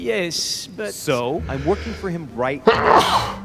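A character sneezes in the video game The Council, a sharp burst amid ongoing dialogue between characters, loud and close.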